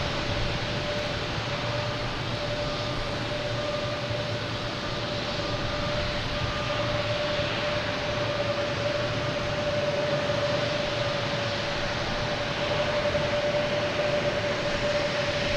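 An American Airlines airplane at Boston Logan Airport gives off a steady, continuous engine roar with a thin sustained whine running through it, even and unbroken from start to finish with no voices.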